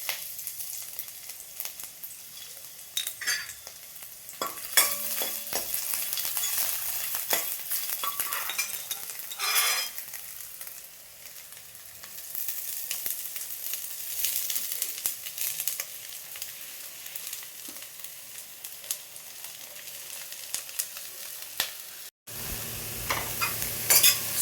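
Garlic and ginger sizzle and fry in oil while being stirred, with scraping stir strokes over a steady crackle that runs alone for the whole stretch.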